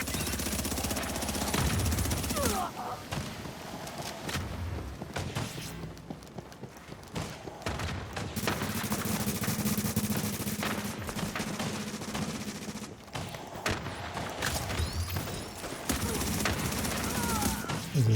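Video game gunfire with dense, rapid automatic bursts and heavy thumps, loud and close, pausing briefly between volleys, with a voice calling out now and then.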